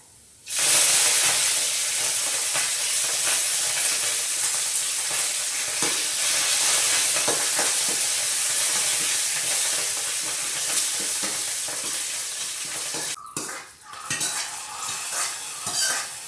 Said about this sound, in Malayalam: കറിവേപ്പില വറുത്തിട്ടു